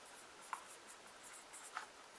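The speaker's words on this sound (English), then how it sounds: "I'm going to go ahead and write this down" A pen writes math notes on paper during a quiet lesson, soft scratchy strokes with two sharper taps, faint and close with no talking.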